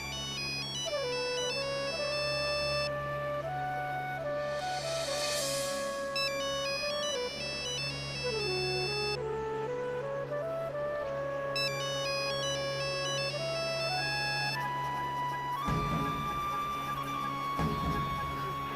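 A phone's melodic electronic ringtone plays over and over, quiet and somewhat distant, against a steady low hum.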